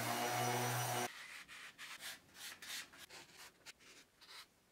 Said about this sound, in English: Then I'm doing slight scuff sanding.